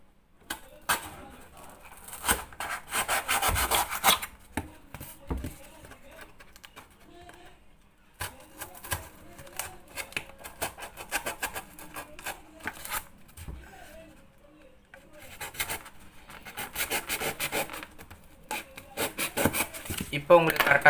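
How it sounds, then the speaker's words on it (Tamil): Scissors or a blade cut a 7 by 4 cm piece from paper or card for a science exhibition project, giving bursts of rasping, rubbing strokes with pauses between them, close and fairly loud, with no one speaking. "அதனால் நான் உங்களுக்கு கட் பண்ணி காமிச்சிடறேன் பாருங்கள்."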